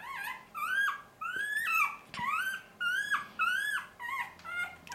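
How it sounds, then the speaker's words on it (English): Newborn Bully Kutta puppies whimper and squeal in a rapid series of high, rising cries while nursing in a whelping box, close by and loud, with faint breathing beneath. "Pups are feeding and doing well."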